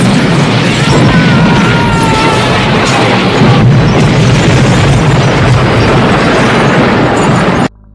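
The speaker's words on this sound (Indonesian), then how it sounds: "mulai menyabarkan petir yang membuat toko mainan itu meledak dan menghancurkan isinya" A lightning strike explodes a toy store in a Chucky horror film, a loud, dense roaring blast with crashing debris that holds steady for about seven and a half seconds before cutting off abruptly.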